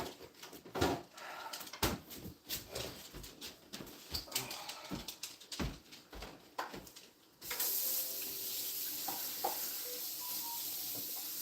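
Water running through a kitchen appliance, an uneven splashing and gurgling flow with sharp clicks and knocks, then settling into a steady rushing hiss, no one speaking.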